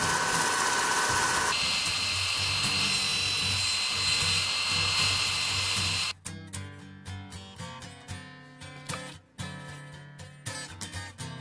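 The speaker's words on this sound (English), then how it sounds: "Sand the handle." A power sander works a machete handle with a loud, continuous whine for about six seconds. It then stops and gives way to a series of quieter scraping and handling sounds. No one speaks.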